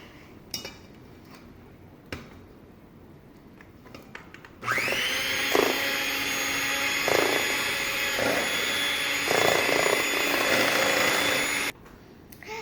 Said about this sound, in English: so I'm gonna stir it now